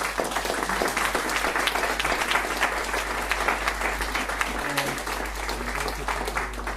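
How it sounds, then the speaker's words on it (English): Sustained audience applause at a Prague public forum on Cuba, a dense steady wash of many hands clapping throughout, fairly loud and continuous with faint murmuring underneath. "Please give one more round of applause."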